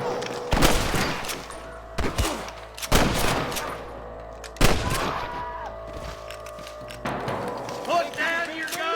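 Rapid bursts of gunfire crack and boom through a gunfight in the video game Red Dead Redemption, several loud shots landing in irregular clusters with thuds and echoing tails, voices shouting over parts of it.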